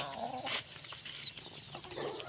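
Brahma chickens at a farm feeding on leaves, with soft intermittent clucks and scratching rustles, faint and close, among low background noise.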